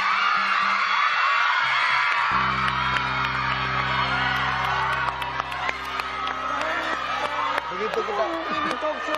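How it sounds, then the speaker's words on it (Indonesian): A talk show studio audience whooping, cheering and shouting over music, loud and sustained, with a host's voice cutting through. "Silakan abiskan teriakan kalian."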